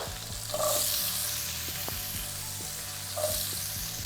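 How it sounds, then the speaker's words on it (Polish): Chopped onion and carrot fry together in a pan, giving a steady close sizzle with occasional soft stirring scrapes and no speech. "Wszystko razem chwilę podsmażamy."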